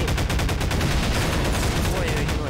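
Rapid anti-aircraft gunfire in the video game Garry's Mod, a dense, continuous stream of loud bursts rattling without pause across the whole stretch, no talk over it.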